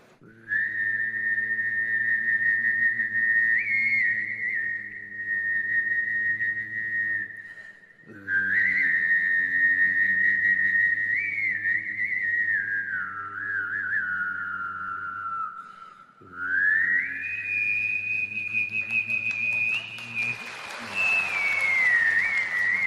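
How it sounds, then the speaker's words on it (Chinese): A performer on a Chinese talent-show stage combines whistling with throat singing: a bright sustained whistled melody rides over a low droning hum in three long phrases separated by brief breaths, with a burst of crowd noise near the end. "有一个我自己研究出来的一个是口哨跟呼麦的一个结合"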